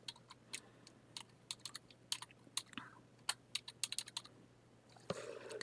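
Keystrokes on a computer keyboard, tapped in quick irregular bursts and clusters, close and fairly quiet, with a brief rustle near the end and no talking.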